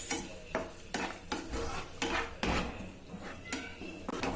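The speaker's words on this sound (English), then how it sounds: "let's add our tomato puree to this along with some salt according to your taste. Now let's give it a good mix." A spoon stirs tomato puree and salt into onions in a cooking pan, making repeated scraping strokes against the pan with a faint sizzle underneath, quiet and close, with no talking.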